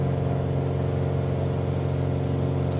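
A Piper PA-28 light propeller airplane engine in Microsoft Flight Simulator 2020 drones steadily at a constant pitch, a continuous even hum with no speech.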